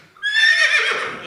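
A horse neigh sound effect rings out loud and close, a single bright whinny that rises and quavers for about a second before trailing off.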